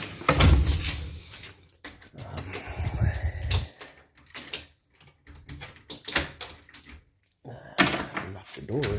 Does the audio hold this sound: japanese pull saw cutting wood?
no